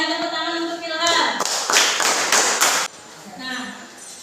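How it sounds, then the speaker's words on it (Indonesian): A short burst of classroom clapping for a student, a few seconds of close, sharp claps between stretches of a teacher talking. "tepuk tangan untuk Ilham"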